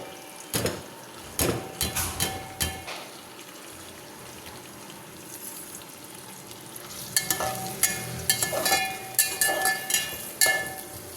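Onions drop into hot oil and fry with a crackling sizzle, broken by sharp bursts of stirring and clattering utensil hits, especially in the latter half, with no talking.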